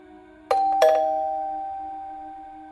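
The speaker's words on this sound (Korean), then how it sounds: "이 시간에 누가 초인종을 누르는 걸까요?" A doorbell rings twice late at night, two bright ding-dong chimes close together with a long ringing tail fading into a quiet room.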